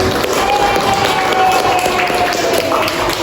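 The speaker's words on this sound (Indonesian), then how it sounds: "Tepuk tangan dulu." Students in a classroom clap together for a short stretch, a dense, steady patter of hands close by with some crowd noise mixed in.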